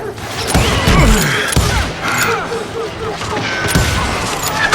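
Heavy gunfire in the Western shooter game Call of Juarez Gunslinger, with rapid overlapping shots and booms in a loud, dense fusillade and voices shouting over the battle.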